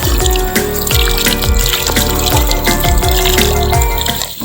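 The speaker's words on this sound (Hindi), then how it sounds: "ये पानी खुद ब खुद बह रहा और 24 घंटे बह रहा" Spring water pours nonstop from an outlet at a shrine, a loud, close, continuous splashing gush with a rhythmic gurgling pulse, and no voices over it.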